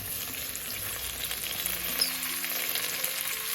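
Freshly chopped tomatoes dropped into a hot pan of vegetables with fresh peas for veg biryani, a steady close sizzle and crackle of frying that goes on alone without any voices.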